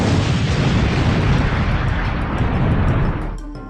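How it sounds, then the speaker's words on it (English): A massive sustained explosion from the destroyer Campbelltown blowing up, a loud, dense rumbling roar that holds steady for several seconds before cutting off abruptly near the end. "Finally, the Campbelltown was to explode, taking with her the southern Quezon."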